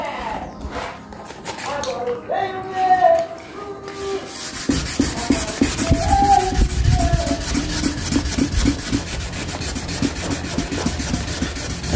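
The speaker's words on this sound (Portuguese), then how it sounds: "vai lixando assim," Wet hand sanding of car primer with water, steady rhythmic rubbing strokes of sandpaper close up, with someone talking in places.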